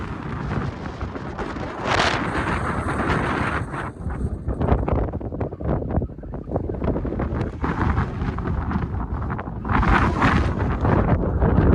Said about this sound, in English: My God, it's windy.